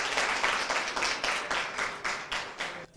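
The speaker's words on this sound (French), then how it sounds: "applaudissez très bien pour vous-même." Lycée students applaud themselves at a school event, rhythmic bursts of clapping rising and falling in waves for a few seconds before cutting off abruptly.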